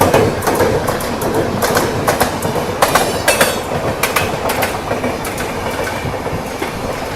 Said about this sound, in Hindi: सामने से कोई और एक्सप्रेस भी आ रही है